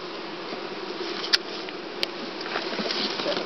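Honey bees hum in a steady, close buzz as they are shaken into a hive, with two sharp knocks and soft patter through the continuous drone.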